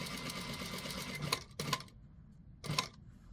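A sewing machine stitching elastic into the waist of a dress runs in a steady whirring burst, then gives two short separate bursts, close and moderately loud, with no talking.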